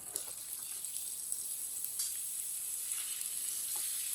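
Potatoes cut into long pieces frying in a pan for an aloo baingan sabzi, giving a steady, fairly quiet hiss and crackle with occasional soft stirring clicks, no voices.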